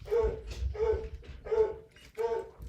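A pet dog barks in four evenly spaced bursts, a family-arrival cry with a whining edge, close and loud indoors during a sewing class.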